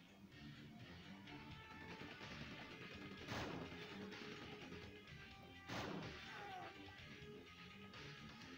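Gunfire in Quake 2 on the PlayStation 1, with two sharp, loud blasts standing out over a dense, continuous layer of game noise and music.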